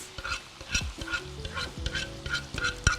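Canned tomatoes are added to mushrooms frying in a pan, giving a steady sizzle with rhythmic stirring and scraping strokes that repeat roughly twice a second, close and quiet, with no talking.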